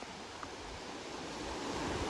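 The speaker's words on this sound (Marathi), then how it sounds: "लाटा बघू शकता तुम्ही बघा कशा येतात" Ocean waves breaking on a beach, a dense broadband wash of surf with some wind noise, fairly faint and continuous over a couple of seconds.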